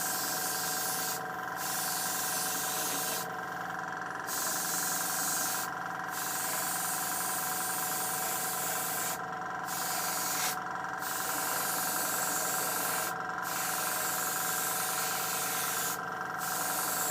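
Aerosol spray coat blasted over a Bluebird K7 model to seal its decals and oil-washed panel lines, a steady close hiss running throughout with several brief pauses between bursts and no talk.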